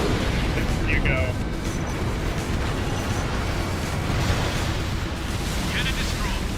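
A railgun cannon explodes in Ace Combat Infinity as a dense, sustained roar of blasts and rumble. Radio chatter and talk play over it, and brief tonal beeps appear twice.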